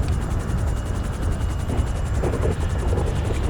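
Helicopter in the GTA video game, a steady close rotor thrum with a fast chopping pulse and a high mechanical whine, continuous and loud throughout.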